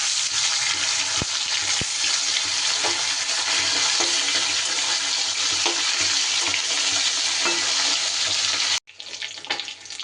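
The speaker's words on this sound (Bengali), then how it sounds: "মাছ দুটো আমার ভাজা হয়ে গেছে, এবার বাকি মাছ দুটো আমি দিয়ে দেব" Chapila fish fry in a pan with a loud, dense sizzle that holds steady, with a couple of brief knocks early on before the sound cuts off abruptly and then resumes more quietly.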